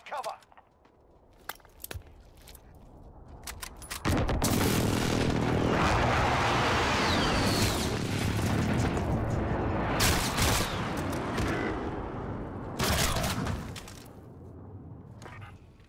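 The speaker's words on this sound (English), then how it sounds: "Enemy precision airstrike. Take cover." Explosions from a precision airstrike in Call of Duty: Modern Warfare multiplayer roar loudly for several seconds as a dense rumbling barrage, with a second blast later and a voice talking over the action.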